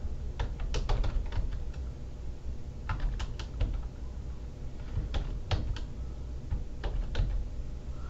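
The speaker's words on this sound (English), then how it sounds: "I'm going to use my computer keyboard" Steady clicking keystrokes tap away on a computer keyboard, close up and fairly quiet, in irregular quick runs with short pauses.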